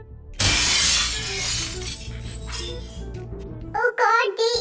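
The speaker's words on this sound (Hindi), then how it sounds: "जिमिन ग्लास का पानी उठाती है और वो जानबूझकर गिरा देती है" A glass of water dropped on purpose shatters loudly on a hard floor, a sharp crash with scattering shards over the first seconds, followed by a voice speaking close by.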